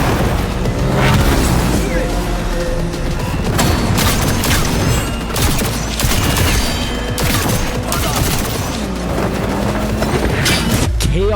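Rapid bursts of explosions and gunfire in the video game Cyberpunk 2077 crackle and boom in quick succession, loud and chaotic, with a low rumble throughout.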